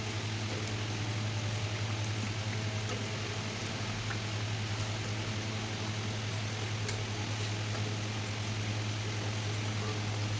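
Nimki pastries sizzle steadily in hot oil over a low flame, a dense continuous frying hiss with a constant low hum beneath.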